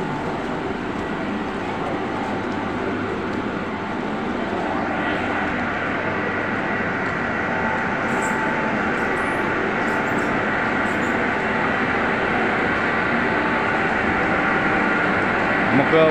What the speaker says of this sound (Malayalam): ഗുരുവായൂരിൽ നിന്നൊരു ട്രെയിൻ പുറപ്പെടാൻ തയ്യാറായിട്ട് നിൽക്കുന്നു.